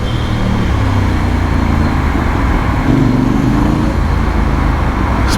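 A custom Honda X-ADV 750 maxi-scooter riding through everyday traffic, giving a loud, steady engine drone mixed with road and wind rush that continues without a break, with a brief swell in engine pitch partway through.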